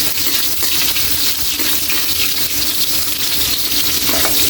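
Ginger sizzling as it sautés in hot oil in a pan, a loud, steady frying hiss with occasional scraping stirs, close and continuous throughout.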